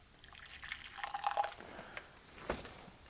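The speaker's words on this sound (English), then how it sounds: "let's put a little water in here first." Water poured into a French Army RCIR ration pouch of soup mix, a few faint dripping and trickling splashes close by, quiet and brief with no talking.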